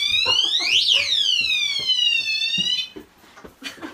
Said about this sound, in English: Okay. Motion detector.